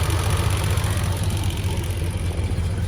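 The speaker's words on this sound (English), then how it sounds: "There's your 396 big block Chevrolet engine, 350 horse." A 1969 Chevelle SS with a 396 big-block Chevrolet V8 rated at 350 horsepower and factory air conditioning idles close by with a steady, deep rumble and no voices.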